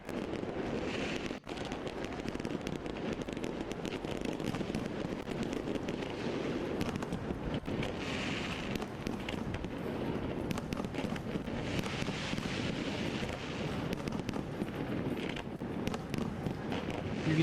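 New Year's Eve fireworks show in Hong Kong, heard as a continuous dense roll of distant booms and crackles under steady wind noise, with a few sharper bangs standing out over nearly twenty seconds.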